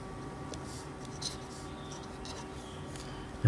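A pen or chalk scratching out a ratio on a board during a maths lesson, producing faint, steady scratchy strokes against a quiet room hum.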